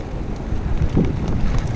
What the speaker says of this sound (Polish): Jest cholerny wiatr i nie wiem, czy będziemy dobrze słychać.